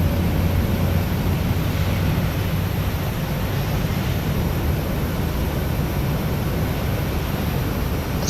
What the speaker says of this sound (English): You can hear them other aircraft outside coming in, landing, taking off.